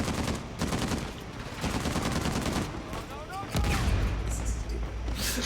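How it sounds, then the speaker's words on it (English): Gunfire in Uncharted 4, a gameplay scene with repeated sharp shots and bursts, loud and close, mixed with game noise and a player talking over the action. "Who's shooting me?"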